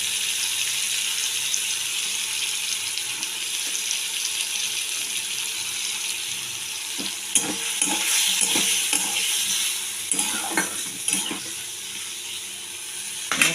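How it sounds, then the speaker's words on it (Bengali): Masala spices with peas frying in a pan after a splash of water, a continuous soft hiss and sizzle with occasional stirring scrapes and clinks in the second half. "মশলাটা একটু ভাজা হতে হোক"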